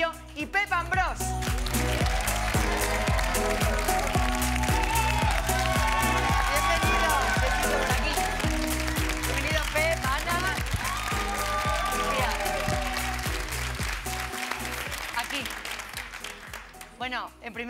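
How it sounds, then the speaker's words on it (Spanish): A television studio audience applauds film guests, a steady wash of clapping running the whole stretch beneath music and a speaking voice. "Un fuerte aplauso para Itziar Bollaín, Ana Castillo y Pep Ambr"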